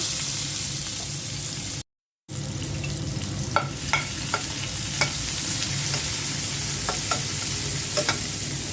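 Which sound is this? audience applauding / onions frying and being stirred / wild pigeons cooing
onions frying and being stirred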